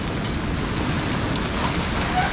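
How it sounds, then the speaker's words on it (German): Mixed snow, graupel and rain coming down steadily outdoors along a Rhine cycle route, a dense, even hiss and patter that holds at a constant level throughout, with no voices. "Schnee, Graupel, Regen."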